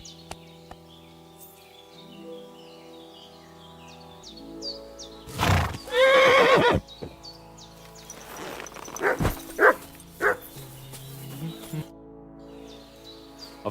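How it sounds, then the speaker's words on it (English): A horse in Kingdom Come: Deliverance II lets out a loud neigh and snorts in two separate bursts, with brief hoof-like knocks. A soft, steady in-game musical drone hums underneath throughout. "I've got a horse for you here"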